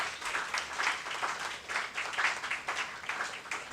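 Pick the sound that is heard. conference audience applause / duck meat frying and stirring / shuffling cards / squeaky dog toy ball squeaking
conference audience applause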